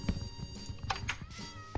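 A Minecraft cat meows a few times in quick succession, close and fairly clear, with light game clatter around it.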